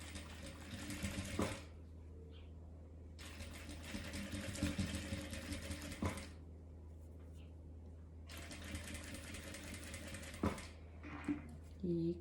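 A sewing machine stitches through a fabric vaccination booklet cover in three sustained bursts of rapid, steady needle chatter, separated by pauses with quiet handling noises, heard close and fairly faint.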